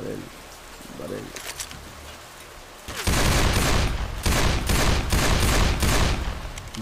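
Rapid gunfire from the Left 4 Dead video game erupts loudly and densely about three seconds in, after a quieter opening, then continues as sustained crackling bursts. A voice is audible faintly underneath.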